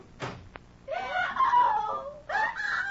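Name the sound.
woman screaming in radio drama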